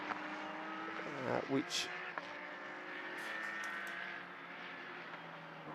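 A BMW GT race car passes on the Mugello circuit during a four-hour GT endurance race, its engine note rising and falling briefly over a steady bed of track noise while a commentator talks throughout.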